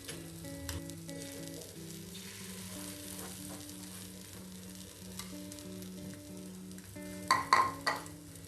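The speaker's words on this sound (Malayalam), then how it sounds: "ഇനി നമുക്ക് ഈ മറിച്ചിട്ടിരിക്കുന്ന ബ്രെഡിൻ്റെ മുകളിലോട്ടും ഈ മുട്ട ഒഴിച്ച് കൊടുക്കാം" Beaten egg sizzles in a pan as it fries on top of flipped bread for a bread omelette, a steady soft crackle under background music, with a couple of brief utensil knocks near the end.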